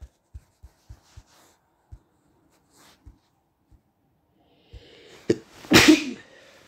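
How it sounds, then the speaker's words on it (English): A single loud human sneeze with a sharp intake and forceful burst near the end, preceded by a run of soft tapping clicks in an otherwise quiet room. "I'm sorry, I had to sneeze."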